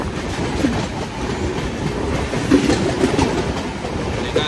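A train passing a railway crossing in the morning on an Indian route, a loud continuous rumble with rhythmic clickety-clack of wheels over rail joints.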